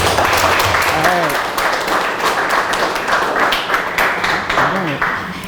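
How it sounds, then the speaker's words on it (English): A room of entrepreneurs at a coaching business event breaks into steady applause, dense clapping sustained for several seconds with a few whoops and voices rising over it. "give a round of applause for our intention setter today, Ber-Henda"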